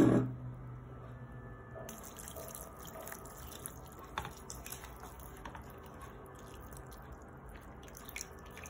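Water soaking into a coconut coir substrate brick and dripping through it, faint close trickles and scattered small drips continuing steadily after a brief initial knock.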